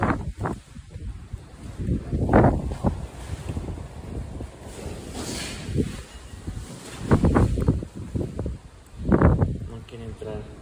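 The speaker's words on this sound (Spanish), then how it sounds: "Antes de que sople más fuerte el viento." Steady wind blows outdoors, roaring across the microphone with gusty rushes that swell and fade, while people talk intermittently nearby.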